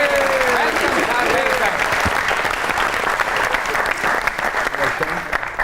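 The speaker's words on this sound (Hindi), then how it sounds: "आपकी बहुत सी तालियों में जनाब खलीलुर रहमान कमर।" Sustained, loud audience applause greets guest Khalil Ur Rehman Qamar on a comedy talk show stage, a dense steady roar of many hands with a brief voice rising over it.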